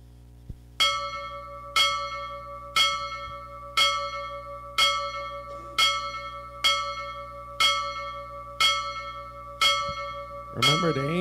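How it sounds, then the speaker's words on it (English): A bell rings at a meeting while a vote is open, ten evenly spaced ringing strikes about one second apart, each leaving a sustained decaying tone, loud and clear in a quiet room. "You'll hear the bell ringing while it's open."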